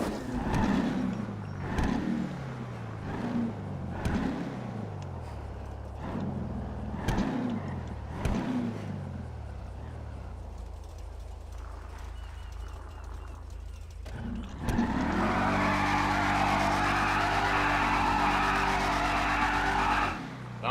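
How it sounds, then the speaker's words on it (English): A short bed pickup truck runs down a drag strip, its engine revving through repeated gear pulls with rhythmic bursts, then settling into a loud, steady roar near the end. "Let's take this short bed down the track."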